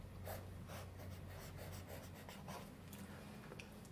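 A silver-blue Pelikan Pelikano school fountain pen writes on paper, a very faint, close, rhythmic scratching of strokes repeating evenly over a low background hum.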